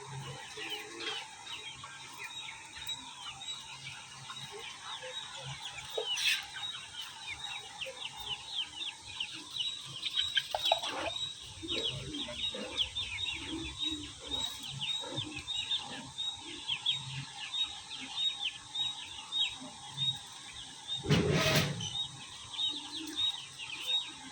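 Native chickens clucking close by with small chicks peeping, scattered calls and a few louder squawks over a quiet rural background.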